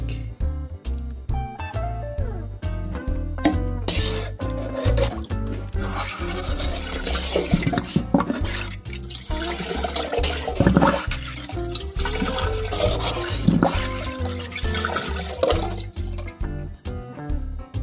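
A toilet with a broken fill valve flushes with rushing, gurgling water that drains steadily and then trickles as the tank empties.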